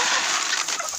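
A drake and a goose squabble in a poultry yard, giving harsh, hoarse honks and hisses in a brief close outburst.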